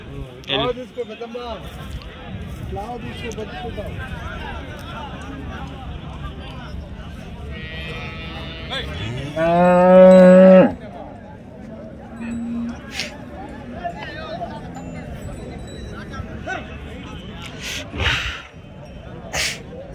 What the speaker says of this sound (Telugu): పాలావులు ఇవన్నీ మనం వస్తామని చెప్పి నడిపిస్తారు